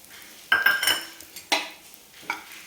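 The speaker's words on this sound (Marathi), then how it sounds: "हे जे उरलेलं तूप आहे आपलं याच्यामध्येच आपण आता हा खोबऱ्याचा केस टाकून घेणार आहे" Grated coconut is stirred in leftover ghee over a low flame. A metal spoon scrapes and knocks against the pan in three distinct bursts, close and fairly loud, over a faint sizzle.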